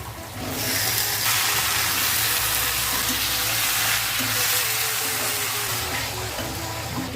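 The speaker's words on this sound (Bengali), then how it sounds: "হলুদ দিচ্ছি, ধনের গুঁড়ো দিচ্ছি, কাঁচা লঙ্কা দিচ্ছি, টমেটোগুলো দিয়ে দিচ্ছি" Turmeric, ground coriander, green chili and tomatoes fry together in a pan, giving a steady, fairly loud broadband sizzle that holds evenly throughout, with a low rumble underneath.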